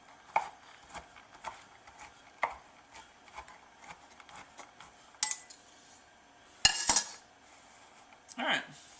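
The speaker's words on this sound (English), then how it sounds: "I'm even going to chop these cherries up a little bit" Knife chopping cherries on a cutting board in a home kitchen, a series of sharp irregular chops and taps, with louder clattering knocks of utensils near the end.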